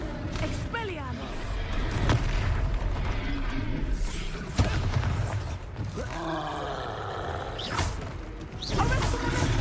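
An Expelliarmus spell cast during a duel in the game Hogwarts Legacy bursts out in several sharp, forceful blasts amid busy combat clatter and creaking, with voices talking over the action.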